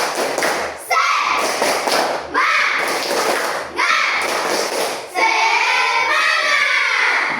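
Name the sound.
spirit clap (tepuk semangat) by schoolchildren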